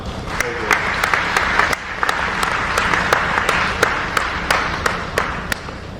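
Applause from an audience at a sports awards ceremony, a fairly close crowd of clapping hands with sharp, distinct individual claps standing out at an uneven rhythm over the steady wash.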